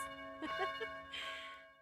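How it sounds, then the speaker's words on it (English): Wedding bells chime in the Harvest Moon Magical Melody video game, a short tonal bell jingle with sustained ringing tones over a soft musical backdrop. "you will hear the sweet sounds of this, wedding bells"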